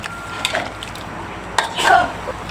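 Stirring pork with chopped eggplant in a pan of water for a Thai spicy pork-mask stir-fry, with a few soft scraping clatters of a utensil against the pan over a low background hiss.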